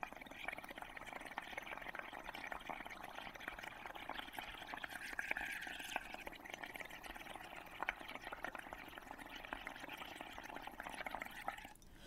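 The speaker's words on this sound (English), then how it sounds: "So, we're gonna start blowing our bubbles." Bubbles are blown through a straw into a cup of soapy water for a second-grade bubble printing activity, giving a steady, continuous low gurgling and bubbling that runs the whole time with no talk.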